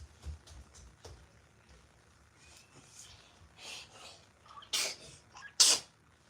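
Two sharp sneezes burst out near the end, the second louder, after a stretch of quiet breathing and faint background noise.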